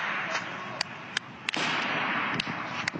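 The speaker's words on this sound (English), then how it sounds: "Some gunshots." Several sharp gunshots from a shooting, spaced irregularly over a few seconds, heard as distant-sounding cracks in a played recording over a hissy background.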